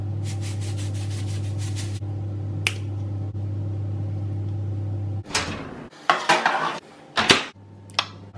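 Pots and utensils clattering while a home dinner is cooked, with a steady low hum for the first seconds, then sharp close clinks, scrapes and knocks of metal cookware in separated bursts, no talking.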